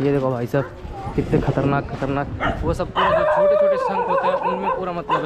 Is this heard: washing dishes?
no